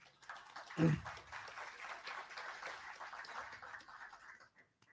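Audience applause at a panel on agri-food financing, a dense, steady patter of many hands that swells quickly and holds for several seconds before stopping, with no talking over it.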